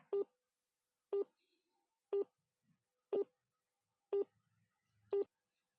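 A phone call fails to connect, giving six short, evenly spaced tones about a second apart, clear and isolated against silence.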